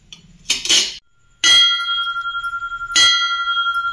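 An old bronze pooja vessel's diamond-shaped knobbed lid is struck twice, each strike ringing out with a clear, sustained metallic tone that decays slowly, preceded by a short clatter of handling.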